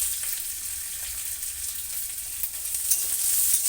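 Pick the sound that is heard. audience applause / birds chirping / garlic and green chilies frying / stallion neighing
garlic and green chilies frying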